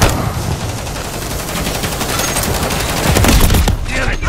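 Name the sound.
gunfire hitting player in Call of Duty Modern Warfare III video game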